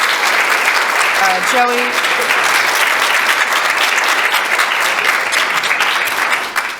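Loud, sustained applause fills a city council meeting in Elmhurst, a dense steady clapping from the room that runs unbroken for several seconds, with a brief voice calling a name over it.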